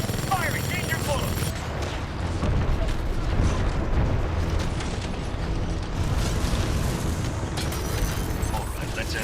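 Titan weapons fire with heavy explosions in Titanfall 2, a dense continuous barrage of booms and blasts with mechanical clatter, loud throughout.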